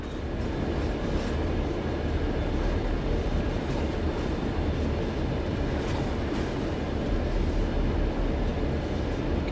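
In Train Sim World, the cars at the back of a train bump into the front while slowing, heard as a continuous loud rumble of rolling wheels and rail noise with faint knocks, steady and close throughout.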